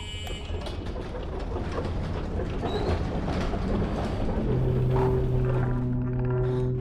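A tram in the game Abiotic Factor rumbles and clatters along its track, a steady mechanical rolling noise with rhythmic clicks, joined near the end by a sustained tonal hum as it runs on.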